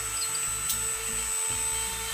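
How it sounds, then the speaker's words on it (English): A bandsaw sharpener grinding the teeth of a saw blade, a steady motor whine with a repeating light grinding pulse as each tooth passes, moderately loud and with no talking. "Now we're looking at a good grind."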